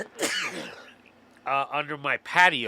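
A single sharp human sneeze bursts out at the start, loud and close, followed by a pause and then people talking.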